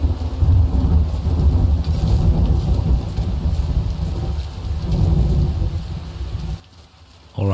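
Steady rain falls in the Skyrim game world, a dense, continuous wash with low rumbling underneath, loud and unbroken until it drops away sharply near the end.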